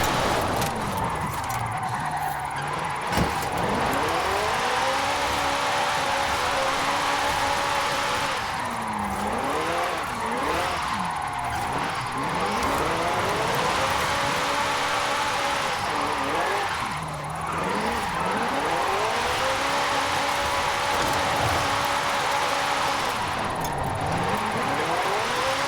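A 2018 McLaren 720S coupe with a 1029 hp rear-wheel-drive drift tune in Forza Horizon 5 revs hard and steadily, its engine pitch climbing and dropping repeatedly as it slides, loud and close throughout.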